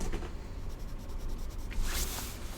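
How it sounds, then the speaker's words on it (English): Graphite pencil shading on sketchbook paper, strokes kept moving in one direction, a soft close scratchy rubbing in steady repeated passes, quiet and alone. "today I'm just going to keep the pencil moving in one direction"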